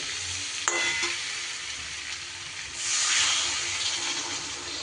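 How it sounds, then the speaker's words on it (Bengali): Water poured into a pan of pumpkin curry sets off a steady, loud sizzle and hiss that flares with a burst of steam partway through, close by with no talk. "ভালো করে আমার মেশানো হয়ে গেছে, এবার আমি দিয়ে দেব জল।"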